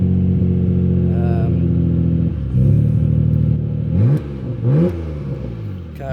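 Nissan R34 Skyline engine running at a fairly loud, close idle, then sharply revved in several quick blips toward the end.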